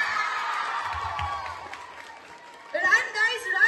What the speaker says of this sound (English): Please give a big round of applause for our class 8C